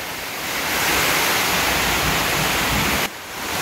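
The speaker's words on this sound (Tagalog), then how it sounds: "Sobrang lakas ng ulan." Heavy monsoon rain pouring hard onto an unfinished house, a dense, loud, continuous roar with no break in the downpour.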